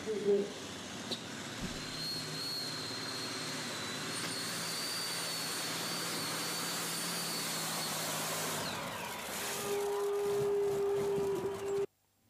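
A pulling tractor at a German tractor pulling event roars in a loud, sustained drone that swells harder near the end, then cuts off abruptly.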